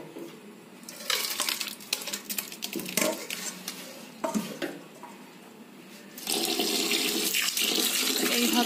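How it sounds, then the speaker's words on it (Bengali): Grated ash gourd is washed in water, with splashing and running-tap sounds, clinks of a bowl or pan, and a steady louder stream of pouring water toward the end. "এবার চাল কুমড়োটাকে আমাদের জল দিয়ে ভালো করে ধুয়ে নিতে হবে"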